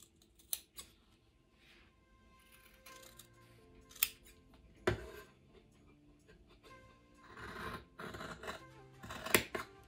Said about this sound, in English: now I'm going to use my fabric shears to cut along the drawn lines